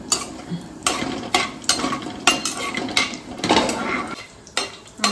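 Spices stirred in hot oil in a pan for tomato bath, with repeated loud metal spoon scrapes and clinks against the pan over a low sizzle, no one talking.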